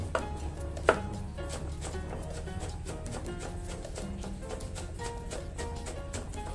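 A knife slices Indian borage leaves in a home kitchen, producing a quick, even run of close, light chopping taps on a board, with one sharper knock near the start.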